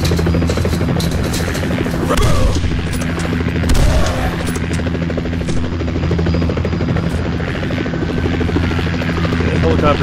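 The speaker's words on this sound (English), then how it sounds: "helicopter noise is kind of a lot." Loud, steady helicopter rotor thrum and drone from the video game Condemned fills the whole stretch, with scattered gunfire-like bangs and a voice briefly talking beneath it.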